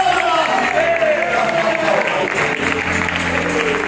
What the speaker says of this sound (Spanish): Fuerte el aplauso para Dios